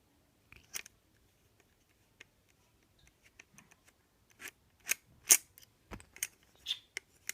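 A part of an APS ASR112 airsoft gun being unscrewed, heard as faint, sparse clicks and small scraping ticks close by that grow busier and sharper toward the end, with no talking.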